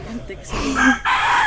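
A rooster crows close by in a short, loud burst, with a brief murmur before it.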